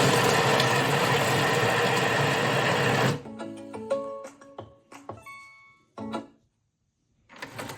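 A kitchen food processor running on automatic at speed 5 gives a steady, loud mechanical whir for about three seconds, then stops abruptly, followed by faint clicks and clatter.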